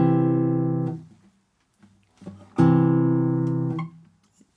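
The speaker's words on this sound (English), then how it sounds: "you can mute things like that" A classical guitar sounds a sustained note or chord that rings clearly, is abruptly muted to silence, then after a few faint touches rings again and is cut off once more.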